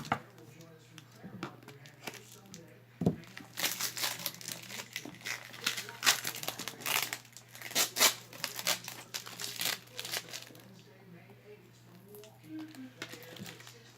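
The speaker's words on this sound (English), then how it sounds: "get this tape off" Packing tape tearing and crinkling as it is pulled off a package of jewelry, with repeated rips and crackles over about ten seconds and a steady low hum in the background.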